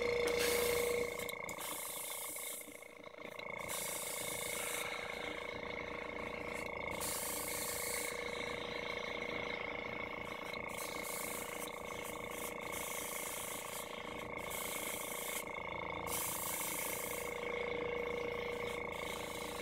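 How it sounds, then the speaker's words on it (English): An airbrush hisses continuously as it sprays black paint mixed with polyurethane additive onto a Venom cosplay mask, a soft steady airy spray with small breaks and faint handling noises throughout. "now I'm going to take my airbrush with some black mixed with the 40-30 polyurethane additive"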